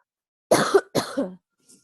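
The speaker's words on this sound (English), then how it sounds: "I'm coughing to death because my throat doesn't want to work today" A person with a sore, uncooperative throat coughs twice in quick succession, close and fairly loud, followed by a faint trailing breath.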